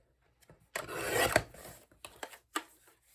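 Paper is trimmed for a desk folio, a close, dry rasping cut of about half a second followed by a few short scraping strokes and light taps.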